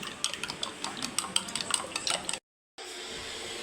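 Egg being beaten with salt and pepper powder, quick light clinks and scrapes of a utensil against a bowl in a fast rhythm, then a brief silence and soft room tone.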